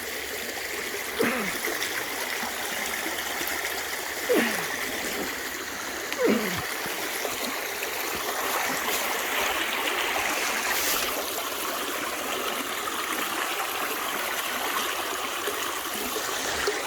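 A small stream flows into a deep swimming hole in the West Virginia woods. Its soft, steady rushing trickle sits at a moderate distance, and a few faint bird chirps rise over it.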